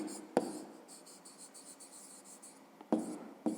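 A pen writing an answer by hand on paper for a fifth-grade maths exercise: soft, continuous scratchy strokes close by, with a few sharper taps as the pen meets the page.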